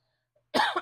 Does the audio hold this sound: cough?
yes